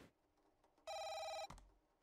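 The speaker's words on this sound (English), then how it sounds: "Another phone call?" In the video game Dispatch, a telephone gives one bright electronic ring, lasting about half a second and standing loud and close against a quiet background.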